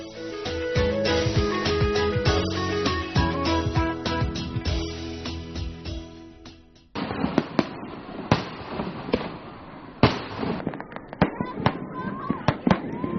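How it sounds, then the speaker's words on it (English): Rapid bursts of fireworks crackle and pop in dense volleys at night beside the Lancang River after a festival boat race, followed by scattered louder booms, with music and voices mixed underneath. "With fireworks lighting up the sky in a zillion different colors"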